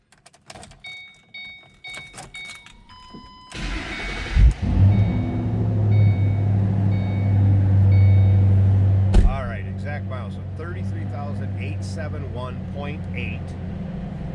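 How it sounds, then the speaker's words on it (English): A 2007 Ford Mustang Shelby GT coupe engine cranks and catches with a loud burst, then settles into a steady, rumbling idle, preceded by clicks and key rattles inside the car. "I'm going to start it up, let you hear it run."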